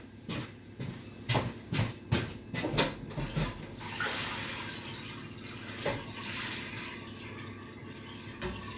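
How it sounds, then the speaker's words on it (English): Sink filling with hot running water for washing dishes, a faint splashing hiss under clatter and knocks that ends in a sharp bump. "that can fill up as well with hot water and a bit of soap"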